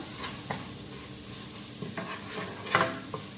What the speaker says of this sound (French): les carottes je vais les faire revenir donc avec ma vermicelle